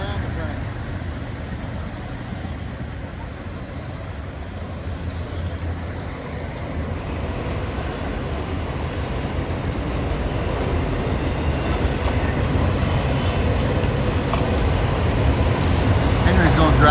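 A train rumbles past draft horses in a city setting, a steady low mechanical roar that gradually swells louder as it nears, with voices talking over it.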